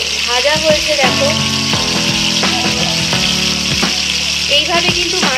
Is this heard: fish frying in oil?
yes